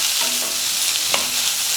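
Onions sautéing in a pan for potato masala, a steady dense sizzle with faint scrapes of a stirring spoon, close and unbroken, no talk.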